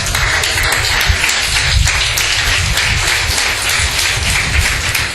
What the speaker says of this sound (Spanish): Un fuerte aplauso a Jesús, iglesia.